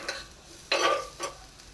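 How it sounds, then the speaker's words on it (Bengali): Ginger and masala frying and being stirred in a pan for mustard pabda fish: a steady low sizzle with a few sharp scraping strokes of the spoon, close and alone. "সবটাকে ভালো করে মিক্স করে লাল করে ভাজতে থাকবো।"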